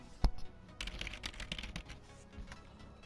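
Quiet, rapid typing on a computer keyboard for a PC game of Fortnite, a light flurry of clicks and key taps at close range with no talk.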